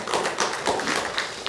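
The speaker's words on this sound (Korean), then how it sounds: "우리 박수로 좀 환영해 주시기 바랍니다" A church congregation gives welcoming applause during a Sunday family service, a steady patter of many hands clapping close by and filling the room, with no talk over it.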